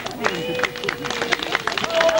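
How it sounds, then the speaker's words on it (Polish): An audience claps for a Cossack folk choir at a 1998 concert in Gdańsk, Poland. The irregular clapping is moderately loud and mixes with crowd murmur and an announcer's voice. "Duże brawa dla naszych kozaków."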